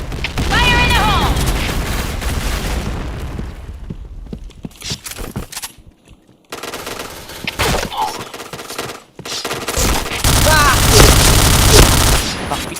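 Rapid gunfire bursts and explosions in the shooter game PointBlank, loud and dense at the start and again near the end, with a quieter gap in between and faint voices mixed under the shooting.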